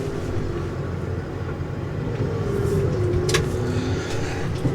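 A dumper's wheels spin in snow on a farm, giving a steady, loud engine drone with churning noise that swells slightly midway, with no talk.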